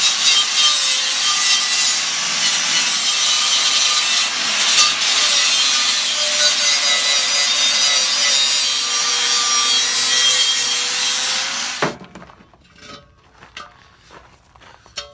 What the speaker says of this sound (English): We got a good sharp 36 grit flap wheel in this grinder that should make short work of it